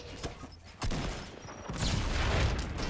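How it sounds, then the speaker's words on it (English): Bursts of gunfire from the Fortnite video game, sharp cracks and a rattling volley rising over a steady noisy background, with no talk. "I'm being shot at."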